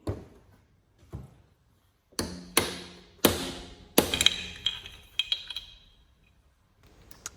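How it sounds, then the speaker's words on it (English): A match hammer strikes a Honda CRF450R engine camshaft in a series of sharp, ringing metal blows, irregularly spaced, some quick doubles, with brief quiet gaps between them. "Nothing like belting a camshaft with a match hammer to get the job done"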